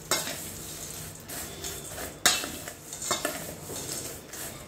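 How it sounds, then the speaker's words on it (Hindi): Namkeen snack mix being stirred in a bowl with a spoon: soft, quiet rustling and crunching broken by a few sharp clinks of utensil against the dish. "अभी जितना भी हमने नमकीन लिया है, इसे तो पहले हम अच्छी तरह से मिक्स कर देते हैं।"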